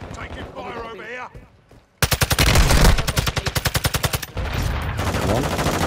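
Rapid automatic gunfire crackles in the Call of Duty: Modern Warfare II video game, first a loud sustained burst, then a rhythmic stream of evenly spaced shots, with game voice chatter heard briefly before it.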